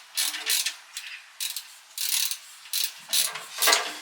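An LTT screwdriver's ratchet mechanism clicks in a series of short, bright bursts, close and fairly loud, repeating at an irregular rhythm with brief pauses between.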